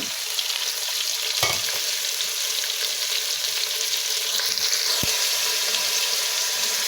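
Onion and cumin seeds frying in a pot of hot oil, a loud, even hiss and crackle that holds steady throughout, punctuated by a couple of sharp utensil clinks, with no one speaking.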